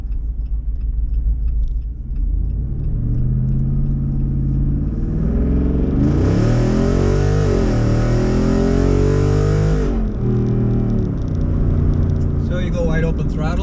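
A Jeep Wrangler Rubicon 392 V8 with an H-pipe exhaust goes to wide open throttle with a loud, deep rising roar that peaks mid-clip. A lower rumble continues before and after the full-throttle burst.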